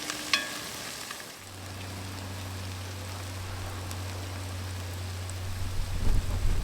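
Garlic and tomato paste stirred in a pot for smoked chili, a steady soft sizzle with scraping stir strokes, a low constant hum underneath and a louder clatter near the end.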